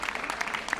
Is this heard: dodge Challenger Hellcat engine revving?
no